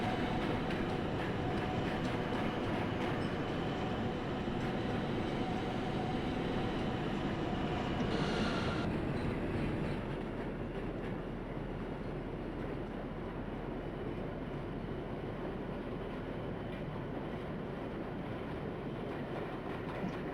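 An NYC Q-line R160 subway train in the OpenBVE simulator runs late at night from 57 St-7th Avenue toward Brighton Beach. Its steady, loud rolling rumble and rail noise continue throughout and ease slightly partway through.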